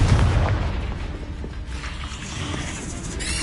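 A booming Confringo spell explosion in Hogwarts Legacy, a dense rumbling burst that sustains and slowly decays, with no voices.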